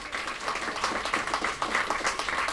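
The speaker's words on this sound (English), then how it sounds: "Let's give her a round of applause again." A mind sports event audience gives a short burst of applause for an organiser, a dense, even patter of many hands clapping at moderate distance that continues throughout.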